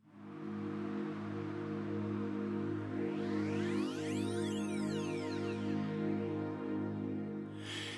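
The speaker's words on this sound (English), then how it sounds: "The Mod 7 modular wave shaping VPM synth" A Korg Nautilus Mod 7 VPM synth holds a sustained, buzzy harmonic tone while sweeping whistling overtones rise and fall across the middle, steady and alone.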